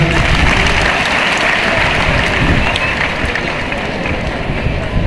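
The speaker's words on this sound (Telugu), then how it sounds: "మనకి గట్టిగా చప్పట్లు కొడతారా" A congregation claps at a Christmas celebration inside a church, a dense, loud and continuous wash of applause that fills the room from start to finish.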